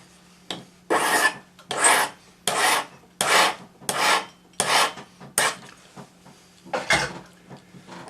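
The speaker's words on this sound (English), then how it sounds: "So what I'm going to do is file the end of this now" A hand file rasps across the end of a metal spiral pendant in about nine firm, evenly spaced strokes, each a bright scraping burst close up, with short pauses between.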